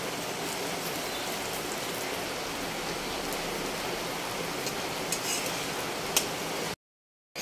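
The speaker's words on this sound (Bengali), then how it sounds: "ওপর থেকে জল পড়ছে।" Steady rain falls from above, pouring water onto a muddy, flooded spot outside a home, a dense continuous hiss with a few louder drips near the end before it cuts off.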